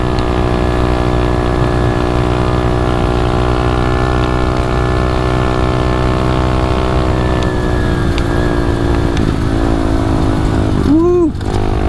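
SSR 125 and Xmoto 125 pit bike engines racing, a steady loud droning buzz that holds a constant pitch throughout, with a brief rising whine near the end.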